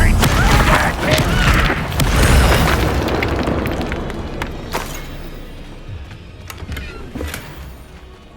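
An Incendio fire spell in Hogwarts Legacy blasts with a loud, booming burst that roars and slowly fades over several seconds, with brief crackles and a voice nearby.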